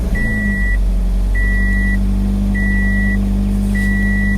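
A 2020 Toyota 86 Hakone cruises with a steady, loud cabin drone, while a short electronic chime beeps four times at an even rhythm over the engine and road noise.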